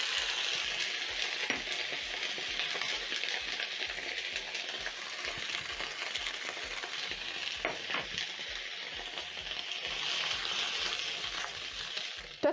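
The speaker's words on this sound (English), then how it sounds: "In the same pan, I'm going to add in a teaspoon of cooking oil, and then I'm going to transfer in my vegetables." Vegetables frying in a teaspoon of cooking oil in a pan, a continuous bright sizzle with scattered stirring scrapes and clinks, steady and close with no talking.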